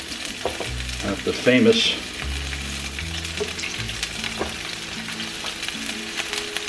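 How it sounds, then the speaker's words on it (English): Potatoes frying in oil in a pan, with a steady close crackling sizzle throughout and a brief louder burst near the start, while someone speaks briefly. "So we're just going to cook up these potatoes."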